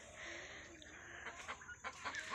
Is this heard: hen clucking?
yes